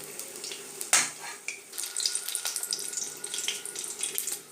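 Narasingha (curry) leaf fritters frying in a pan, a soft close sizzle and crackle with a sharp clatter of utensils near the start.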